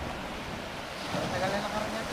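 Broad, rushing wash of surf rolls in steadily on Bigaho Island, with wind buffeting the microphone and voices faintly mixed into the noise.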